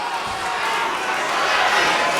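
A crowd roars and cheers at a caged amateur MMA fight, FCC 12, backing Steve Nightingale. The noise is loud and continuous, swelling slightly over a couple of seconds.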